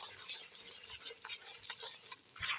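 Besan halwa with cardamom stirred in a pan, a soft irregular scraping and light patter of the spoon against the thick mixture, quiet and close with no talk.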